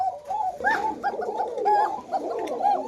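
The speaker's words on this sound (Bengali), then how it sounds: "চিকন ডাকের কবুতর" Pigeons at a pigeon farm coo close by in repeated soft, throaty calls, several birds overlapping in a steady burbling chorus.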